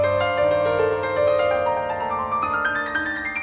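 Piano treated with a Boston Hall style Lexicon 480 reverb, with sustained notes blooming into a long, lush hall tail that fills the space throughout.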